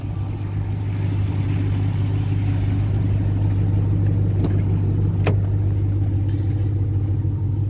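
A 2021 Ram 1500 TRX with a 6.2-liter supercharged engine idles with a steady deep rumble and a constant low hum, close and even throughout, with a brief sharp click partway through and no voices.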